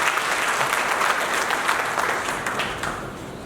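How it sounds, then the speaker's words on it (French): Steady applause from wedding guests at a civil marriage ceremony for the bride, sustained and fairly loud throughout with no voices on top. "Applaudissez pour elle"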